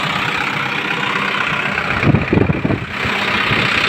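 Combine harvester with a header cutting sunflowers at night during harvest in Dnipropetrovsk region, a steady loud engine drone throughout with a brief rougher, pulsing burst near the middle, no talking.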